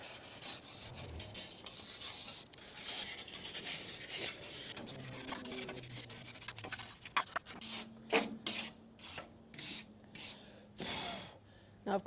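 A brass brush scrubs a severely weathered outdoor wooden bench with steady rasping strokes, then shorter, choppier scrapes toward the end, close and moderately loud, with a few breathy sounds mixed in.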